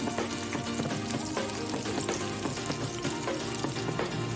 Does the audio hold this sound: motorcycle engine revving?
no